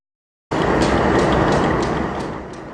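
A Union Pacific freight train led by a Southern Pacific locomotive emerging from Glenwood Canyon, arriving abruptly after half a second of silence as a loud, broad rumble and roar with faint periodic clanks, easing slightly toward the end.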